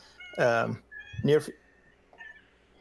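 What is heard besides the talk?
cat meowing in the room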